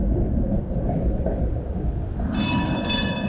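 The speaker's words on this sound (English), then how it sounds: "Here is tram crossing by" A tram passes by on a street in Bratislava's old town, a steady low rumble of wheels on rails close by, joined near the end by a bright, high metallic squeal or ring.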